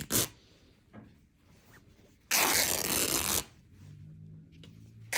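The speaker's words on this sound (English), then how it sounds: "I'm going to go ahead and tear the edge of my fabric all the way across" Muslin fabric is torn by hand along its edge in one sharp, loud ripping burst lasting about a second, set among quieter handling rustles and a faint hum.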